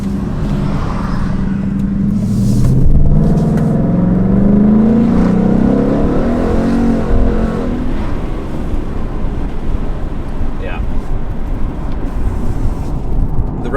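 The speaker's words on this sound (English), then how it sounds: "The Roush exhaust sounds so good." A Roush Trak Pak Mustang with a Roush exhaust, driving gently on a wet, rainy road, gives a steady low rumble that swells briefly as it revs and then settles back to a cruise.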